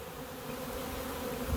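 A swarm of honey bees buzzes in a soft, steady, continuous drone, faint and even throughout with no voices.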